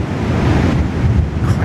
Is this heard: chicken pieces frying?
no